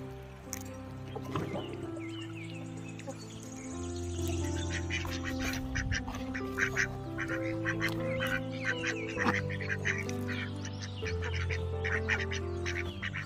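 Ducks quack repeatedly while swimming on a pond, their calls layered over a steady low outdoor rumble, close and moderately loud with no talking.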